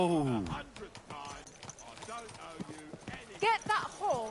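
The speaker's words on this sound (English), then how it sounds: "Get that horse under control." Horse hooves clip-clopping in the Kingdom Come Deliverance 2 video game, a quick irregular run of nearby hoofbeats mixed under game voices and other sounds.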